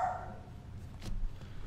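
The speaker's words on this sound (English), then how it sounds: "Please stop randomly barking." A dog barks in short, scattered bursts, a few muffled yips at moderate distance over steady low background rumble from a horror video game.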